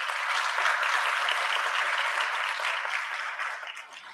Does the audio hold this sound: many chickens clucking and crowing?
no